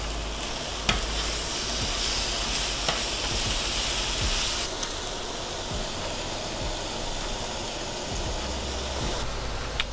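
Meat sizzles loudly and steadily in a hot frying pan just after being flipped, a dense continuous crackle with a few sharper pops and no talk over it.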